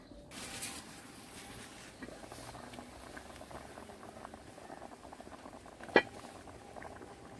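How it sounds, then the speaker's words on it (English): Yellow yam boiling in a pot, a steady quiet bubbling and rolling simmer that runs throughout, with one brief sharp knock near the end. "Yellow yam sound good in the pot here, bubble up."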